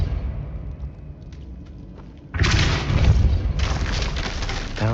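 A Depulso spell in Hogwarts Legacy strikes with a sudden loud blast, then a sustained bright crumbling roar with a second surge, following a quieter stretch.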